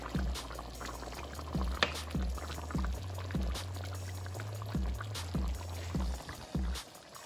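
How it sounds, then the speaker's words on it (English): Jamaican-style oxtail stew simmering and cooking down in a pot, with soft continuous bubbling and a few sharper pops and clinks at a steady close distance, no talking. "It's still cooking down, guys. It's still"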